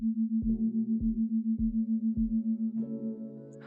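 A steady pure tone pulsing in a regular wobble, a binaural beat produced by a Python app on a computer, with soft low thumps every half second and a brighter layered tone entering near the end before fading.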